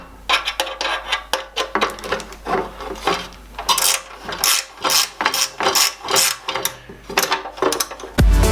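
Bolts on a Ramair induction kit being tightened on a Mk3 Audi TT, with a quick series of close, loud ratcheting clicks in short bursts and a clunk at the very end.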